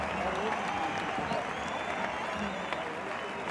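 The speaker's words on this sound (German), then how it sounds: "Applaus für die vier." Steady applause and crowd noise at a beach volleyball match fill the whole short stretch, dense and continuous, heard somewhat at a distance.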